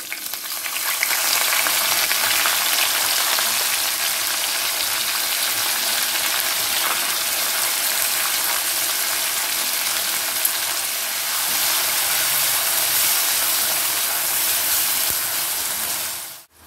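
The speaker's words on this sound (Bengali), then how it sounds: "মশলার গন্ধ ছড়াচ্ছে, এবার আমি দিয়ে দিচ্ছি কুচনো পেঁয়াজ" Chopped onion frying in spiced oil gives a loud, steady, close sizzle with a bright hiss that holds unbroken for the whole stretch, with no talking.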